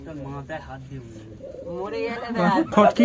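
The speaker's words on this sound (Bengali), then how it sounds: "এটা মাদি পায়রা" A female Giribaj pigeon gives low throaty coos near the microphone, building into louder bubbling calls toward the end, while a person talks over it.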